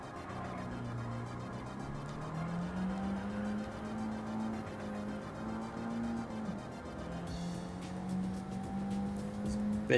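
A race car in Gran Turismo holds a steady engine drone that rises and falls in pitch through gear changes, with tire noise and a brief harsher burst near the end, continuous and fairly loud throughout.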